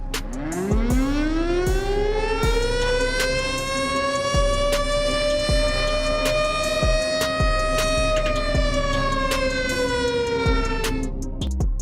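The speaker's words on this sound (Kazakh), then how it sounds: "Ал мынау дәл сол сиренаның дыбысы." A civil defense air raid siren wails loudly, rising steeply in pitch, then holds a long, steady howl with rich harmonics, accompanied by regular sharp clicks throughout.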